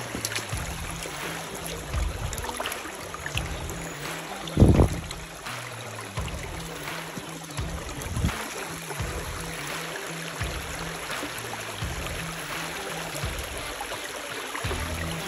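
River water sloshes and trickles steadily as a fossilised chain coral is rinsed, with a brief louder splash partway through and low rumbling handling noises, all close by.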